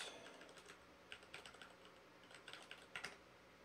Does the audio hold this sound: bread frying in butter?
no